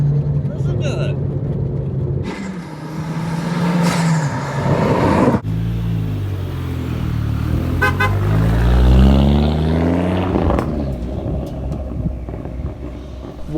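A street-driven front-wheel-drive WRC tribute rally car engine idling and revving up close, with people talking over the engine noise.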